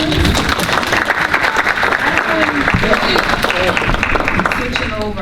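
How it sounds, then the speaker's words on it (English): A meeting audience at a public meeting at Morgan State University gives a round of applause: loud, sustained clapping from many people that continues for several seconds, with some voices mixed in. "Round of applause."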